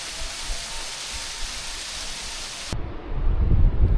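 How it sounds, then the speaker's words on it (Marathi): A waterfall on the Kanchenjunga trek sends up a steady, broad rushing roar, close and even, that cuts off abruptly near the end into low wind buffeting. "सुंदर धबधबा."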